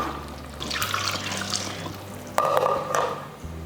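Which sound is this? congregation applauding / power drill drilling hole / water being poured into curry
water being poured into curry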